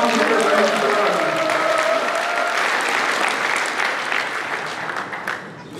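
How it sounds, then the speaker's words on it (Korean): Sustained clapping from a crowd at a People Power Party provincial members' rally in South Chungcheong, loud and dense, tapering slightly toward the end. "박수 한번 주세요."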